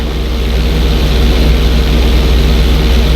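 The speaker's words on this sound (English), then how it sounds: "Steady the plane first, wait for my signal, and then pull back hard on the flight stick." Stunt plane in Grand Theft Auto 5, a loud, steady propeller drone with a pulsing low throb, close and continuous, no voices.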